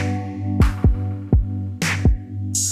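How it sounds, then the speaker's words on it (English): An open hi-hat in a hip-hop beat rings out in bright sizzling washes over a thumping kick pattern and a warm sustained synth, a few hits spread across the phrase, closing on a brief airy hiss. "And the first one was an open hat, and that sounds like this."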